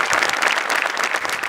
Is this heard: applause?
yes